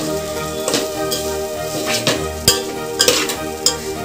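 Gongura rice is stirred and fried in a pan, with a steady sizzle under repeated scraping and clinking spatula strokes at an uneven rhythm, close and fairly loud.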